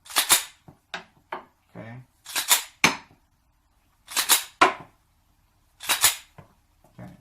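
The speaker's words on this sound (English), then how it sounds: "I'm just going to cycle a few so you see that it actually cycles" Rounds are cycled through a 10mm 30-round SGM magazine, making a series of sharp metallic clacks in uneven clusters, close and crisp, with a voice briefly speaking between them.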